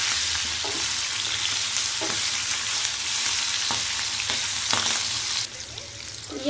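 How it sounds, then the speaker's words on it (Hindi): Green chillies sizzle and fry in a pan, with a steady close hiss of hot oil and a few soft scraping knocks from stirring. No one speaks. "और अब इसके बाद में हम डालेंगे यहाँ पे हरी मिर्ची। और इसको मिक्स कर लेंगे।"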